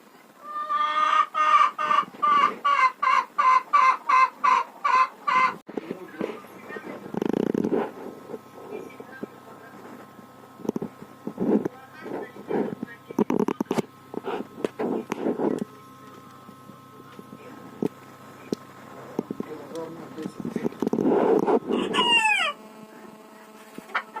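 Chickens cluck and a rooster crows in a poultry yard that also holds bantams, with a burst of rapid clucking at the start, then scattered calls and a loud crow near the end, close and clear.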